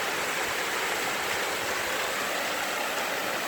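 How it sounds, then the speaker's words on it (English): A waterfall roars as a steady, dense rush of falling water, loud and unbroken from start to finish, with no voices. "Beautiful waterfall."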